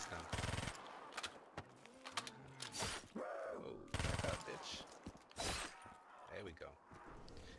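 Guns firing in Black Ops 3 zombies, with several loud bursts of automatic fire separated by short gaps, close and prominent over game sounds and groans.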